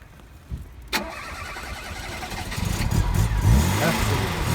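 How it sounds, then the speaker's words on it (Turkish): An original 1990 Tofaş Şahin car gives a sharp click as the engine catches, then idles and is revved up into a rising, rough engine roar. The sound is close and runs for several seconds. "Bir ara gaz yoklaması yapalım."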